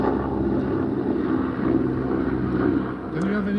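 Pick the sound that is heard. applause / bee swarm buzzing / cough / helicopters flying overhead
helicopters flying overhead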